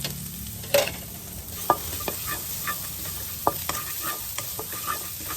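Shallots fry in oil in a pan over a gas flame, giving a soft continuous crackle. Sharp utensil taps and scrapes land at irregular moments.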